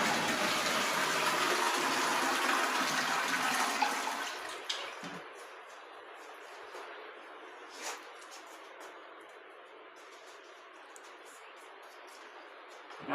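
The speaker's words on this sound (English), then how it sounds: "after flushing we will measure the capacity of this flush toilet through the mug" A flush toilet flushes with a loud rushing gush for about four seconds, then drains and refills more quietly with faint trickling; no one speaks.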